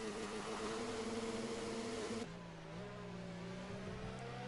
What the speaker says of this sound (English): Look at his revs.